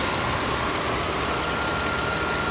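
A 2007 Volvo XC90 with 121,000 miles idles smoothly, a steady low engine hum with a faint whine above it, continuous and even throughout with no knocks or irregular noises.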